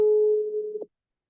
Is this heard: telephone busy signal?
yes